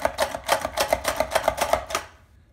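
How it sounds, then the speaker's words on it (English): Peeled garlic cloves are minced with quick, regular chopping strikes, about nine evenly spaced close knocks over two seconds before stopping into near silence. "once you have it peeled, you're gonna put it in the mincer"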